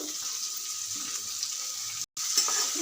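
Onions fry in a pan with salt added, a steady broad sizzle running throughout, close and fairly loud, with one brief total dropout near the end before the hiss resumes.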